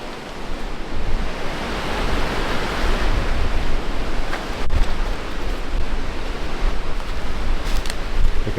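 Waves washing onto a beach make a steady, loud broadband rush that holds evenly throughout, with some possible wind noise and no speech.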